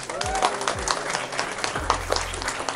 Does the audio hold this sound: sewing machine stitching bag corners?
no